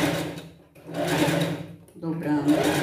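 Close, loud bursts of a sewing machine stitching folded fabric for a pet costume, stopping and restarting in short runs with someone talking between them.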